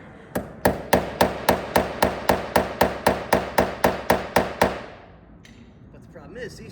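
A hammer strikes stainless steel screws on a 1969 Mercury Cougar XR7 convertible in a quick, steady run of about fifteen sharp taps, then stops, leaving faint background noise.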